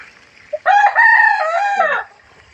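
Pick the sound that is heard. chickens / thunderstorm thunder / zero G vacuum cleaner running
chickens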